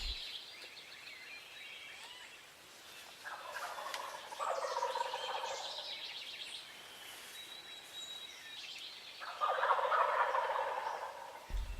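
Wild turkeys roosting in trees above a hunting blind gobble in two loud rolling bursts, with a quieter call between them and faint distant birdsong in the background.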